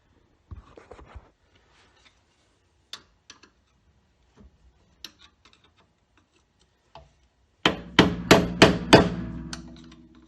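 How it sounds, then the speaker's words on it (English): Sharp hammer taps on a metal tab folded over a 1965 Chevy II brake backing plate: scattered light ticks at first, then a close, loud burst of five or six quick ringing blows near the end. "need a hammer and a screwdriver because this has got a piece of metal folded over the top of this"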